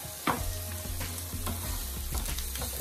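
Carrots sizzling and sautéing in a hot pan alongside other vegetables for a callaloo stuffing, a steady close crackle with a few stirring scrapes and taps of a utensil.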